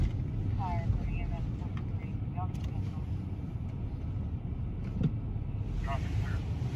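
A fire department battalion chief's vehicle rolls slowly over cobblestones, giving a steady, loud, close low rumble that runs the whole way through with no break, while brief faint voices drift in at a few moments.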